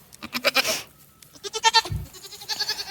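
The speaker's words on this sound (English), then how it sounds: "Goats are such a joy." Goats bleat repeatedly on a homestead farm, several wavering cries close by in quick succession with brief pauses between, heard alone without talk.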